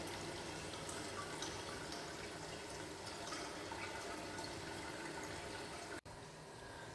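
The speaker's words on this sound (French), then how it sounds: "C'est la première passe, hein, donc il faut que, là, il faut que ça coule fort." Wine distillate pours strongly from a still during a first distillation pass, a loud, continuous liquid rush that holds steady throughout, with only a momentary break near the end and no talk.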